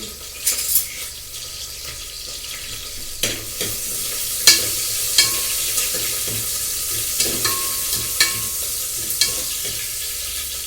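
Onions fry in a pan for sambar, a steady sizzling hiss broken by repeated clinks and scrapes of a spoon stirring against the pan, close and fairly loud.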